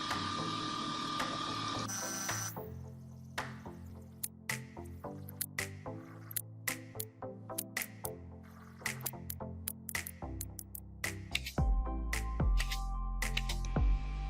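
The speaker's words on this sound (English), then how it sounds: "we're gonna just nail it down with brad nails, 1 inch and a 1/4" A brad nailer driving 1 1/4 inch brad nails into a new table top on a DeWalt radial arm saw being restored, sharp short shots repeating at an uneven pace in a quiet shop, with a few other clunks and a low hum near the end.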